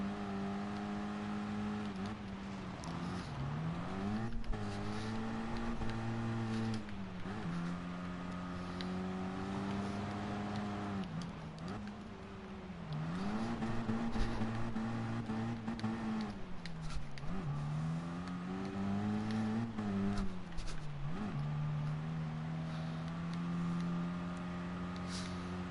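Small Suzuki Swift Sport engine in a PS4 racing game, droning steadily and rising in pitch with each acceleration, then dipping at gear shifts several times across the run, loud and continuous with no talk.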